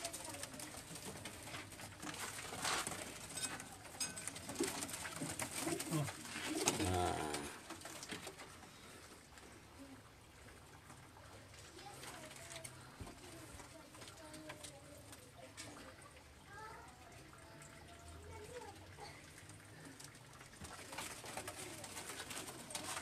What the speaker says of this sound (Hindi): ये लो जी ये मेरा जो है ना शौक वाला कबूतर की पट्टी है